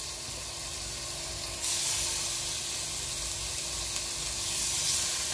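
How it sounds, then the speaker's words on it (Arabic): Chicken escalopes frying in hot oil in a home kitchen, a steady soft sizzle and hiss that swells louder partway through, with no one speaking. "هذو السكالوب راح نحطهم يتقليو"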